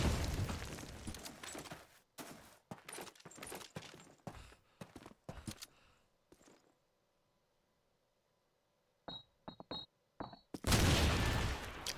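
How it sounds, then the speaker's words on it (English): Grenade bursts and gunfire in Call of Duty 2 during a competitive match, a series of sharp cracks and blasts with a quiet gap before a final loud explosion at the end. "Nade all the way down over the cart from Rampage."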